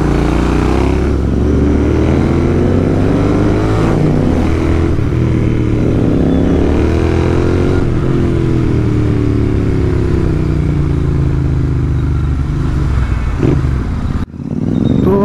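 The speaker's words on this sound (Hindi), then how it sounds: "एक नंबर लग रहा है इसका एग्जॉस्ट" A Royal Enfield Interceptor fitted with an AEW TE 101 aftermarket exhaust rumbles loudly up close, its deep, throaty engine note rising and falling through repeated revs, then cutting off near the end.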